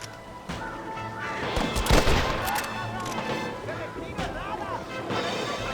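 Gunfire in Red Dead Redemption on PS5, a burst of loud shots and crashing impacts clustered around the middle, set against game effects and voices talking throughout.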